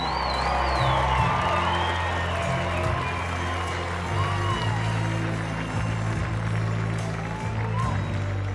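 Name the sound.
applause for military service members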